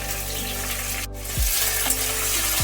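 Potatoes and drumstick stems frying in oil for a Bengali vegetable dish, a steady close sizzle running throughout, with a couple of soft knocks from stirring.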